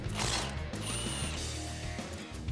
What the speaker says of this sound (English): I'm going to remove the bracket on the spindle first using a 12mm socket